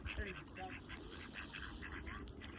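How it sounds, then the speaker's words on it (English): Ducks quack in short nasal calls at a river in Spokane over a steady wash of outdoor background noise, fairly faint and a little distant. "Oh, look at these ducks."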